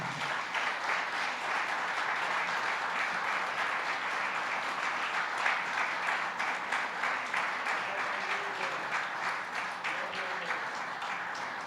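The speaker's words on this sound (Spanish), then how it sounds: "Dale un aplauso al Señor" A church congregation applauds the Lord with steady, sustained clapping that fills the room at an even level from start to finish, with no speech over it.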